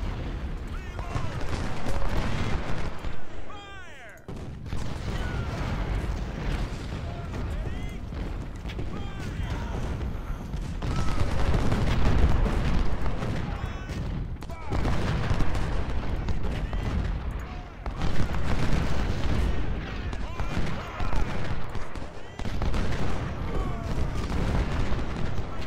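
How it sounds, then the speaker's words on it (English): In Ultimate General: Civil War, an anti-artillery bombardment rolls on with repeated cannon booms and scattered rifle volleys. Someone talks over the steady din of battle. "going with the anti-artillery bombardment"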